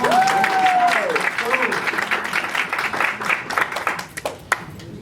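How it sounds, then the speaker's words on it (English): Audience applause at a mentorship workshop, a dense wash of clapping from a room full of people that swells early then thins and tapers over five seconds, with a voice talking over it at the start. "Clap it up."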